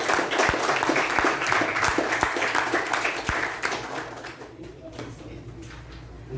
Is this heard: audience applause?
yes